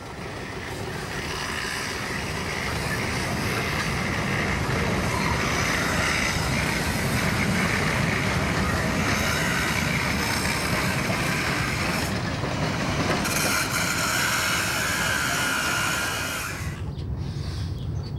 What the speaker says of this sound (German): Der nächste Zug ist wieder mit der Lok B11 bespannt.